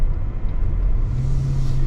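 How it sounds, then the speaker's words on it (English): A steady low rumble of road and wind noise fills the cabin of a 2024 Toyota Venza Limited while driving, constant and unbroken with no speech. "you're gonna get some road noise"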